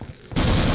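SMG fire in a video game erupts as a sudden loud, dense burst after a brief quieter lead-in and carries straight through to the end.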